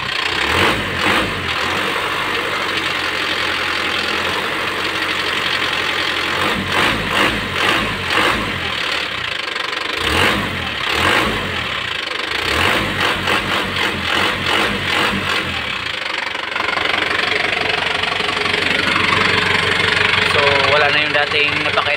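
Overhauled diesel engine running with no muffler fitted, a loud, steady knocking rumble close by with brief talk over it and a rougher stretch near the end.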